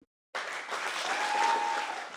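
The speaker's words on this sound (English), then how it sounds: "Big applause." Applause breaks out suddenly from the audience at a Chilliwack civic town hall, a full, even burst of many hands that holds steady and close to the end.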